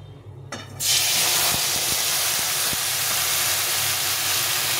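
A spice paste hits hot tempering oil in a pan and erupts into a loud, steady sizzle and hiss that starts suddenly and holds continuously, with a few faint clicks of utensils.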